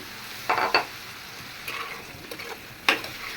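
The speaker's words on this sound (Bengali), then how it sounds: "মশলাটা কষানো হয়ে গেছে এখন পটলগুলো দিয়ে দিতেছি" Pointed gourd goes into spice masala and is sautéed in a pan, giving a soft background sizzle broken by a few sharp scraping strokes of a spatula against the pan.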